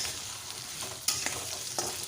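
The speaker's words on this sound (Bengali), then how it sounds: "আলুটা একটু তেলের উপরে হালকা নাড়াচাড়া করে নেব।" Potato pieces frying in oil are stirred in a pan, a continuous sizzle broken by a few sharp scraping clicks of the utensil.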